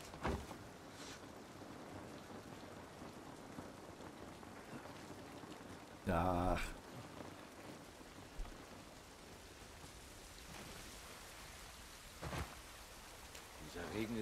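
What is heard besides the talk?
rain falling in the video game The Last of Us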